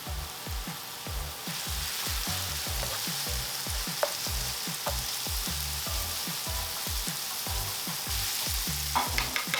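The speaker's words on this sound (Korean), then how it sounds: "이제 함께 넣고 그냥 볶겠습니다" Pork belly, carrots and scallions stir-fried in oil for pork belly fried rice: a steady loud sizzle under rhythmic scraping strokes of a spatula against the pan, repeating evenly throughout with no talk.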